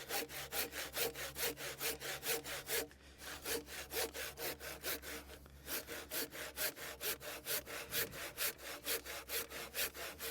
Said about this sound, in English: See, I'm holding the saw against the cut